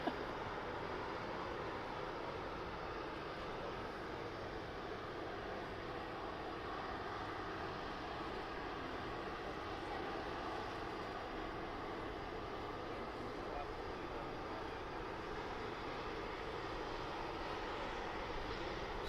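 A Helvetic Embraer E190 E2 at Birmingham Airport gives off a steady, distant engine roar that stays broad and even for the whole stretch, with no talk over it.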